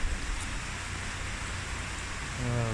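Rain pouring steadily during a typhoon flood in Legazpi City, a dense hiss of heavy rainfall close by, with a low hum rising at the end.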